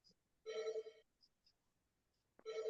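A mobile phone rings during an online class, sounding two bursts of a bright electronic ringtone with a pause and small chirps between them, fairly quiet and with no talk over it.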